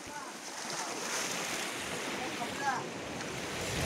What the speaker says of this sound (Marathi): हा आमचा समुद्र आहे.